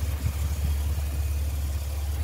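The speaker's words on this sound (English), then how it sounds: "Sorry if the fans are really loud." A Nissan S13 sits running with its cooling fans roaring loudly, a steady low engine idle beneath a constant broadband fan whoosh, close and unbroken.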